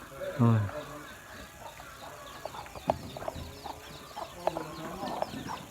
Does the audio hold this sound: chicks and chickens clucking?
yes